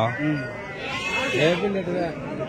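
Sheep and rams bleat at a busy Tuesday sheep market in Kadiri, with wavering calls overlapping close by while people talk over them throughout.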